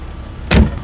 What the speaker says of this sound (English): Steel enclosure comes down.